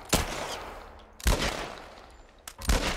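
Gunfire in The Last of Us video game: three sharp bursts of shots at roughly one-second intervals, each with a short decaying tail, fairly distant and moderately loud with no talk.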